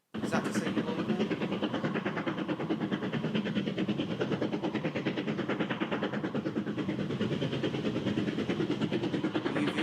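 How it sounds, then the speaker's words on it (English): BR 9F steam locomotives chuff in a rapid, steady, machine-gun-like rhythm, heard at moderate distance as a continuous train of sharp beats lasting the whole stretch. "you like the sound of the 9Fs chuffing"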